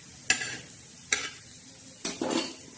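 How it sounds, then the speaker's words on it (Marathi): Whole spices (khada masala) dry-roasting in a pan, heard as three separate scraping stirs with a light sizzle between them, close and fairly quiet with no talk. "खडा मसाला बी असं छान असा भाजून घ्यायचा"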